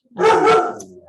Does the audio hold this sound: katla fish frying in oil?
no